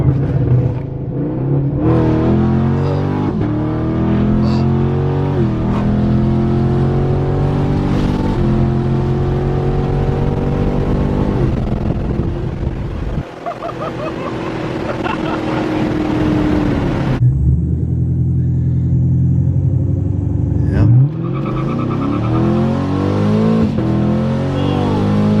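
A Camaro 2SS engine revs hard through rising gears, with loud, close exhaust climbing in pitch, a downshift blip and renewed acceleration, and no talking.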